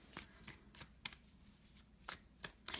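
Oracle cards being shuffled by hand, a series of soft, crisp riffles and slaps in an irregular rhythm, faint and close with quiet gaps between.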